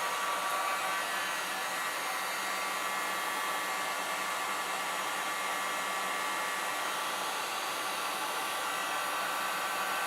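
A hair dryer blowing on light chalk paste cutouts, running as a steady, even whir for about ten seconds at moderate loudness, with no talk.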